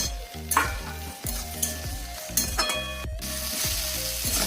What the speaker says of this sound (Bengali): সয়াবিন একটু ভেজে নেবো।